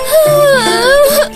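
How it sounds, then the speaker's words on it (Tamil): A cartoon baby cries in a high, wavering wail that rises and falls for about a second, loud and close, with no other sound. "அது குழந்தையோட சத்தம் மாதிரி இருக்கு."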